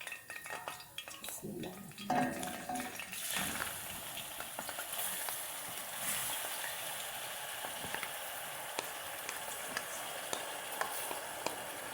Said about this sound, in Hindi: थोड़ा सा घी गर्म होने के बाद हम डाल देंगे इसमें लौकी